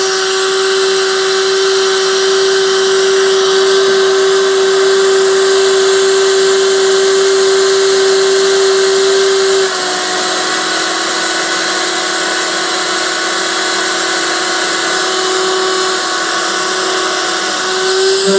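A van's power inverter cooling fan runs steadily under heavy load with a hair dryer added, a loud continuous whir with a sustained tone that shifts slightly partway through, no voices.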